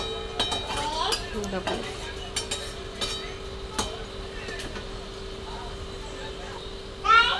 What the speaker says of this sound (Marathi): आता मी झाकण काढून थोडीशी चेक करते भाजी शिजली का नाही